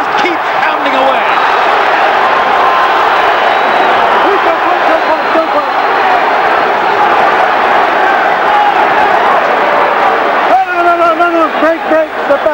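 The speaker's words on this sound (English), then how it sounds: "Overwhelmingly pro-Trinidad crowd trying to lift their man." A large pro-Trinidad boxing crowd roars and cheers continuously at a Hopkins versus Trinidad fight, a dense loud wall of voices with a commentator talking over it.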